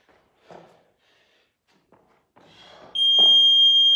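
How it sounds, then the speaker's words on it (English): Workout interval timer in a live Saturday circuit class gives one sustained electronic beep that cuts in sharply and holds steady. Quiet, sparse sounds come before it. "Do not stop before the beep."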